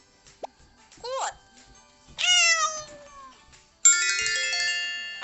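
A cat meows in several short, distinct calls between chimes and electronic tones from a children's puzzle game, the meows moderately loud and close.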